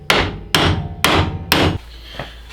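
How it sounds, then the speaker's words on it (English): Four sharp, evenly spaced hammer blows ring out close up as a part held in a vise is knocked loose during a twin-disc clutch install, each strike bright and metallic, followed by a quiet pause with a faint tap. "I'll set this in a vise and just try and tap it off with a hammer going upward probably"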